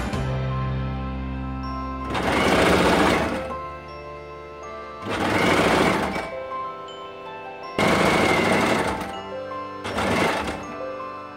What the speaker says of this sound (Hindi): इस तरीके से कॉर्नर पे बिल्कुल सिलाई लगा दीजिए।